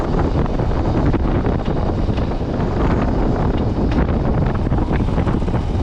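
Steady, loud wind buffeting a microphone, a continuous low roar with rushing air throughout and no voices.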